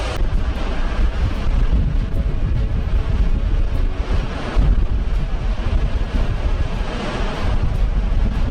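C-17 military transport aircraft, a loud continuous roar with a broad windy, rushing quality swelling and easing slightly, no voices over it.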